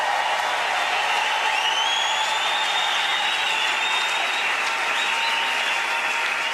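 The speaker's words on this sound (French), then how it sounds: "Ton acclamation peut me rendre encore très bon." Congregation applause at a church baptism service: continuous, dense clapping and cheering from a large crowd, steady and loud for several seconds with a few whistles rising above it.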